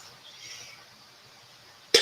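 After a near-silent pause with faint background hiss, a single short cough bursts out at the very end.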